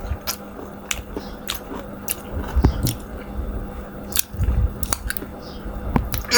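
Ripe mango mashed by hand with sugar and mustard oil being eaten, with soft wet chewing and squishy bites in irregular bursts against faint background noise and sparse close voice sounds.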